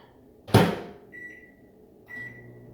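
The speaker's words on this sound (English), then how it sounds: "So I'm going to microwave this muffin for 1 minute on high." A microwave oven heats a muffin for one minute on high, with a thunk of the door or button, then a steady hum and two high beeps, with no talking.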